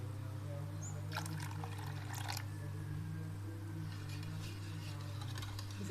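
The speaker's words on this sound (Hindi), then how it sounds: "अब हम इसमें डाल देते हैं 1 कप पानी।" A cup of water is poured into whisked yogurt, giving a short splashing trickle in two brief bursts over a constant low hum in a home kitchen.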